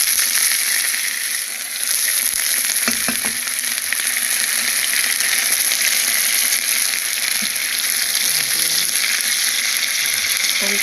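Shrimp fry in a pan of garlic, butter and olive oil with a bright, steady sizzle that holds throughout, close up, with a few soft clinks and stirring knocks.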